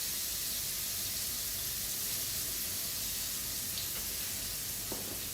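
Crushed garlic sautéing with a little salt in a pan for bolognese sauce gives a soft, steady sizzle, faint and continuous, with no talking.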